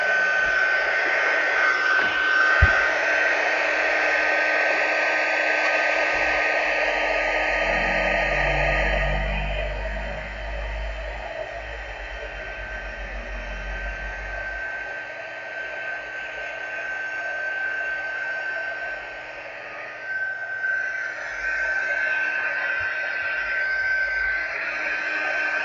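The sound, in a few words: heat tool heat-setting embossing powder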